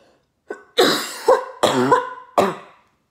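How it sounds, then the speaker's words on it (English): A person coughs and clears their throat in a short burst of four or five harsh, close coughs spread over a few seconds, loud against otherwise quiet surroundings. "I was really hoping I wasn't going to cough so much in this video"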